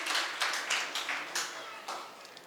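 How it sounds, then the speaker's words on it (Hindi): An audience claps in a religious discourse hall, a brief ragged burst of hand claps that thins out after a couple of seconds, with speech mixed in. "सब ताली बजा के उसका अभिवादन करें"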